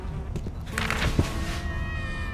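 A big cat in the video game Tales of the Neon Sea lets out one drawn-out, loud meow, backed by steady game music and ambience.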